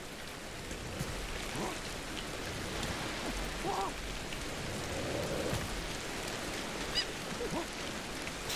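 Rain in the Ancestors: The Humankind Odyssey video game pours as a steady, dense hiss throughout, with a few faint distant calls scattered over it.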